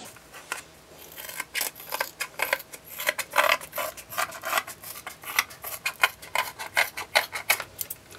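A hand tool snips through a panel being shaped into a one-piece footrest for a Lomax kit car, giving a run of close, irregular crisp cutting clicks and scrapes of varying loudness with no talk.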